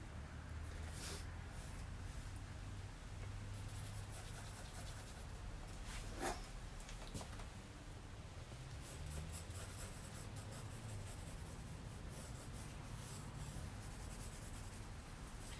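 A pencil sketches on paper with a steady, close scratchy rubbing of quick strokes that continues almost without pause and stays quiet and alone throughout.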